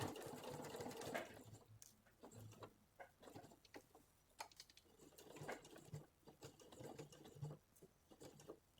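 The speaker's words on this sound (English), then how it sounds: "sewing down there, coming across the top and then sewing back down on the other side" Sewing machine stitching a small doll dress, quiet bursts of rapid mechanical needle chatter broken by brief pauses, faint and close, without speech.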